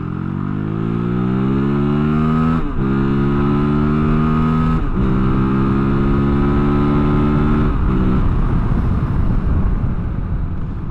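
A Kove 450 Rally motorcycle accelerates hard from a standstill to about 70, its engine rising in pitch through each gear before dropping briefly at three quick shifts. Loud and close, with wind roar building underneath.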